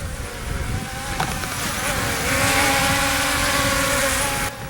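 A DEERC D20S micro drone hovering outdoors in wind, giving a steady high propeller whine that rises and shifts in pitch slightly, loud and close with wind noise over the mic.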